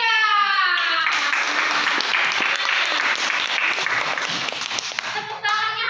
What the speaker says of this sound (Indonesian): Tepuk tangannya harus ikhlas.